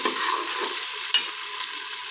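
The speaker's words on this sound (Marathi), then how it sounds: "आपण हा नंतर हिरवा ओटाणा आपण घालणार आहोत तोही साधारण एक मिनिट आपण परतून घेणार आहोत" Green peas are sautéed in a pan, producing a steady close sizzle with a single sharp clink of the spoon against the pan partway through.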